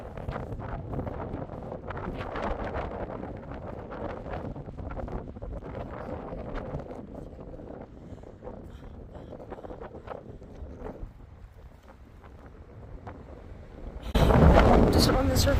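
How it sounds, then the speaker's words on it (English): Wind gusts and buffets the microphone on an exposed rocky crystal-hunting site, a rough, fluctuating rumble that eases toward the end before a sudden loud close blast. "The wind isn't too bad as long as I keep my back to it"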